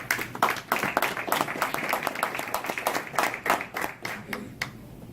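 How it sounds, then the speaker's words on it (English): An audience at a boxing press event in Kansas City claps and applauds, individual sharp claps audible within a lively, fairly close burst that thins toward the end. "Big round of applause, please, for John Anderson."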